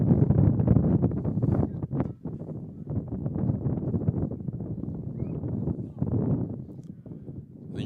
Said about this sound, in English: here comes the wind gust that we talked about